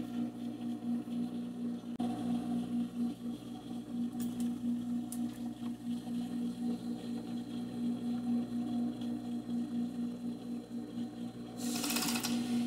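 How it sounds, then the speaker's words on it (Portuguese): A sewing machine stitches fabric for dog clothing with a ruffle, running as a steady mechanical whirr at moderate volume, with a brief louder rattle near the end. "Agora eu vou costurar aqui."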